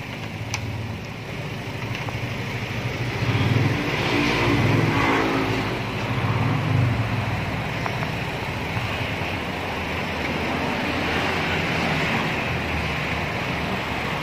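A Wuling Confero car engine runs steadily, a continuous low rumbling drone close by with no voices over it.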